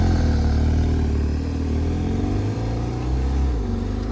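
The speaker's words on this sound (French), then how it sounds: "Donc là, départ du 991 phase 2." A Porsche 991 phase 2 pulls away during carspotting in Deauville, its engine a steady, loud, low rumble that holds for several seconds without talk.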